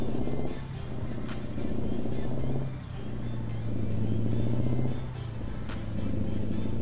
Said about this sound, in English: You're in love with the sound of the truck, I'm guessing?